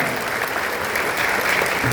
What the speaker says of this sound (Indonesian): Amel, tepuk tangan sekali lagi untuk Amel.